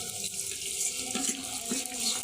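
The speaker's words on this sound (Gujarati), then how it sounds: "ઘૂંઘળું પાણી નીકળે છે" Muddy water runs from a tap into a sink, a steady close splashing gush lasting a couple of seconds with slight surges, no voices.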